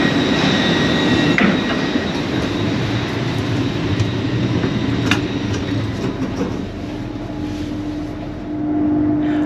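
Steady rumble and rush of a fast train between Edinburgh and London heard from inside a carriage, a continuous roar with faint rattles and no voices.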